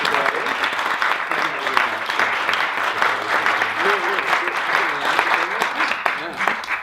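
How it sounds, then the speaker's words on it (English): A film festival audience applauds its filmmakers with steady, dense clapping that lasts about seven seconds, with crowd voices and cheers mixed in. "another round of applause for our filmmakers"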